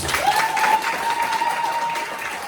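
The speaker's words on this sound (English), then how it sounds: "can we have an applause for that, please?" Applause from the audience at a Welsh talent search show, a short burst of steady clapping with a faint sustained tone beneath it.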